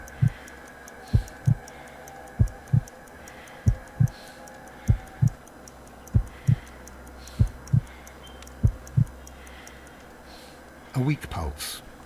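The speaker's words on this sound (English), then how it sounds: "I need to concentrate and count the heartbeats." Steady heartbeat in Sherlock Holmes: Crimes & Punishments, a slow run of paired low thumps, close and distinct over a faint hum and a tick, with a louder burst at the end.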